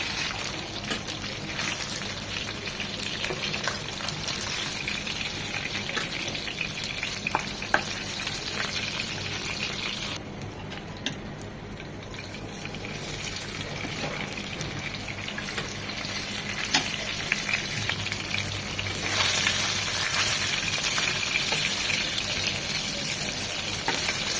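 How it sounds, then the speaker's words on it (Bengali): Katla fish pieces frying in hot oil, a continuous loud crackling sizzle that holds steady and close with no voices. "ওই পাশটা এরকম 2 মিনিট ভেজে নেব।"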